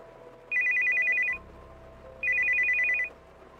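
A telephone rings in two distinct bursts of rapid, trilling electronic bells, each under a second long with a short gap between, loud and close over a quiet background.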